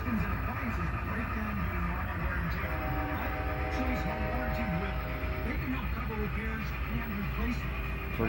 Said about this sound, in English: Got a train going by my house outside, sorry.